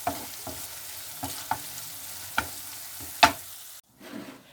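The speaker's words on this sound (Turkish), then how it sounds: "Ya ortalama 1 dakika 2 dakika arası iyice kavuruyoruz ki toz biberin tadı kıymaya çıksın." Minced meat with chili powder stir-fries in a pan, a soft continuous sizzle broken by regular sharp scrapes and clacks of a spoon every second or so, ending in a brief quieter pause.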